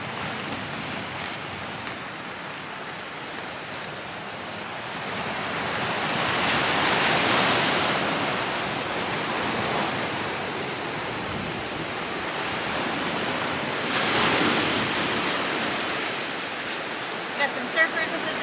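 Ocean waves near sunset at Rincon, by a ramp leading down to the water, give a steady broad wash of surf that swells twice as the waves break, then eases back between them.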